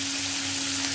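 Whole cumin and capsicum fry in melted butter in a pan, giving a steady, close hiss of sizzling oil with an even, unbroken crackle and no speech.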